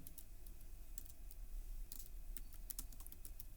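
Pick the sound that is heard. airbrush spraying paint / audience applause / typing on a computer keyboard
typing on a computer keyboard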